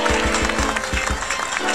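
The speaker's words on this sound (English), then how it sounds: "Give yourself that big round of applause." An outdoor audience at a cardboard boat regatta awards ceremony claps and cheers in a loud, steady burst, with heavy low thumps running underneath and faint voices mixed in.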